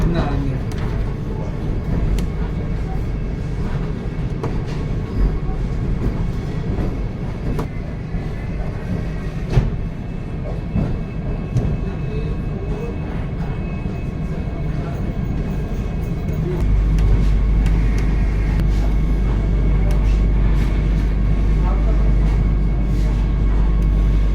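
A Vande Bharat Express train runs out of Kharagpur station on the Howrah to Ranchi route, its continuous rumble heard from on board and swelling louder and deeper toward the end.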